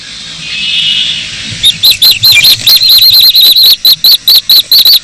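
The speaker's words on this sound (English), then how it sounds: "the golden-eyed ducklings have at last made an appearance" Golden-eyed ducklings call from a nest in a Finnish forest tree hollow, a rapid series of high, sharp peeping notes in a regular rhythm, close and loud, following a brief faint rustle.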